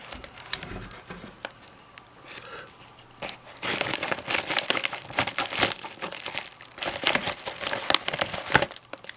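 An envelope is cut and torn open during an unboxing, with crinkling, rustling paper and handling noises that grow busier and louder partway through.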